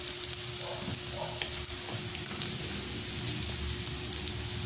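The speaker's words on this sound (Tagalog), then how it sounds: "Painitin mo muna ang iyong kawali bago mo ilagay ang ating" Garlic sizzles in a hot kawali, a constant close frying crackle with a few faint utensil taps and light stirring scrapes scattered through it.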